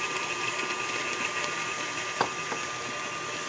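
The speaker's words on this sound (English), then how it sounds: "you can just use the flat beater with your KitchenAid mixer for this cake" A KitchenAid stand mixer beating cake batter for a spicy pumpkin bundt cake with its flat beater: a steady motor whir with a faint knock partway through.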